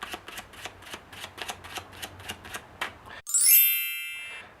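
Playing cards riffled in an overhand shuffle, heard as a quick run of close, dry flicking taps in an even rhythm for about three seconds, then a brief bright chiming tone.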